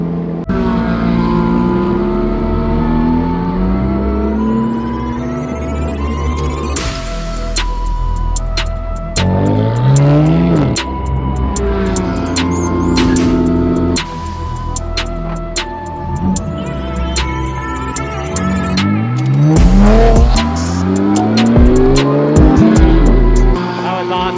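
Race car engines roaring around a track, revs rising and falling through gear changes, cars sweeping past loudly with whooshing pass-bys.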